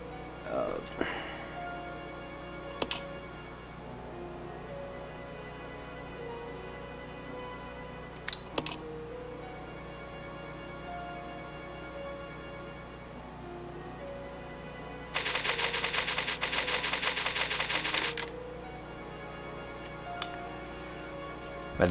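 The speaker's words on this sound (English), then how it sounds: "There's a typewriter. Record data." The typewriter save effect from the Resident Evil Zero video game: a rapid, loud, clattering burst of about three seconds, set over soft, steady background music, with a few isolated clicks earlier.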